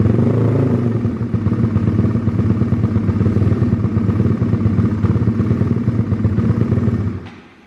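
A cold 2020 Honda Grom motorcycle engine with a FuelTech FT450, running just after being started with throttle, holding a steady, loud, close idle rumble that cuts off near the end.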